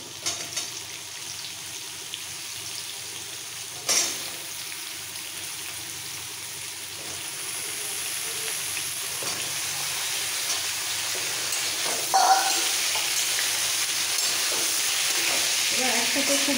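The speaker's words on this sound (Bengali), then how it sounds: "এবার একসাথে খুব ভালো করে ভেজে নেব সবজিগুলো।" Potato, pumpkin and eggplant sizzle steadily in an oily pan while being cooked for a fish-head and greens dish, with a few utensil knocks and stirring scrapes over the continuous hiss.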